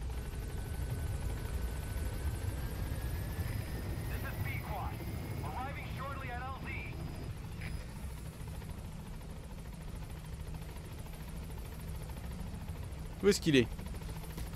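Helicopter in Metal Gear Solid V: The Phantom Pain sounds as a low, steady rotor drone through the whole stretch, with someone speaking French over it and brief game beeps near the end.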